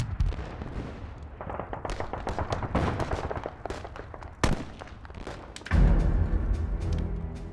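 Wartime gunfire and artillery shelling in an anti-Japanese war drama, with rapid bursts of sharp shots, heavy booming thumps and a loud blast near the end, continuous and dense throughout without speech.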